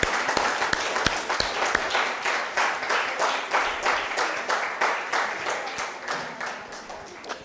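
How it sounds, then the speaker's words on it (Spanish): A church congregation at a Christmas gathering gives a round of applause. Loose, scattered clapping with some sharp individual claps, settling into a rhythmic pulsing beat before tapering off. "Denles un aplauso a mis hermanos."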